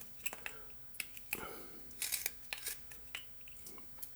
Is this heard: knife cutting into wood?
yes